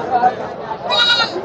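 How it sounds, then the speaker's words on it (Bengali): Goats bleat at the Taherpur goat market, including small young goats, with a few wavering cries rising over a busy background of market chatter and people talking nearby. "এই পাশে আরো কিছু ছাগল আছে, দেখানোর চেষ্টা করি।"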